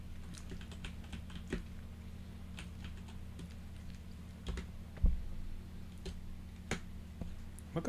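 Scattered keystrokes on a computer keyboard, close and fairly quiet, irregular taps with one sharper clack partway through over a faint steady hum.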